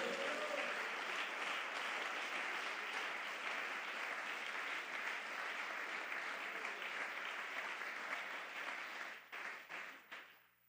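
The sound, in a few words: congregation applause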